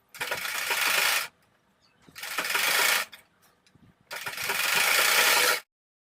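A sewing machine stitches a neck strip onto a kurti in three distinct close, loud runs, each a second or so long, separated by short quiet pauses.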